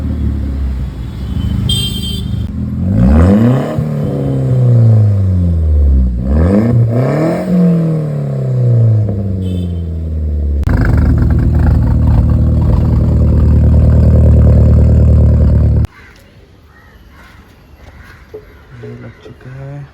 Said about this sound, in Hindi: Check out how the exhaust sounds.